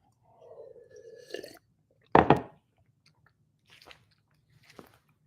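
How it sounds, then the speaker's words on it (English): A person bites into a sheet of paper with one loud, close crunch, followed by a few fainter chewing crunches. A brief voice-like murmur comes just before the bite. "all 3 people are going to see how fast I can eat this paper"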